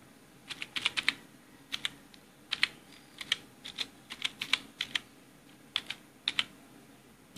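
A name being typed on a computer keyboard into astrology software: bursts of quick, crisp key clicks with short pauses between them, close and clear with no voices.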